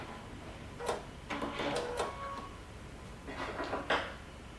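A sewing machine stitches down coat belt carriers in short bursts separated by brief pauses. It sounds close, with a light mechanical rattle and no talking.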